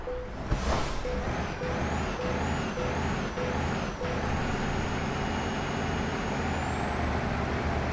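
A DAF 95 truck idles in Euro Truck Simulator 2, its loud engine rumbling steadily while a sharp air-brake hiss bursts early on, followed by a string of repeated beeps and a rising whine near the end.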